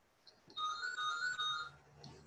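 A phone ringtone chimes as a bright, steady electronic melody for about a second, fairly loud and alone during an online grain market workshop session, with faint room noise before and after.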